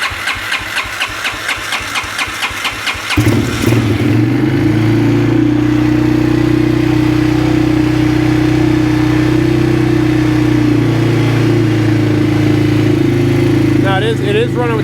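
A 2009 Arctic Cat DVX 300 ATV cranks with a rapid starter whir, then catches and settles into a steady, loud, close idle with the choke on, running evenly, with brief speech near the end.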